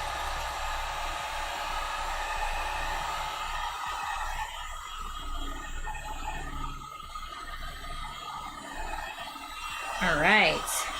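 A heat gun blows a steady, fairly loud hiss at a cosplay panel to pre-curve it. The rush is strongest for the first few seconds, then eases into a softer background noise.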